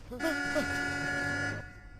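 A car horn honks in one long steady blast of about a second and a half, loud and close, with a voice briefly audible near its start.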